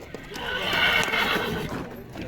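A horse neighs in a long, loud whinny at the Sokuluk horse market in Chuy, rising and fading over about two seconds, with faint hoof clops and outdoor crowd noise beneath.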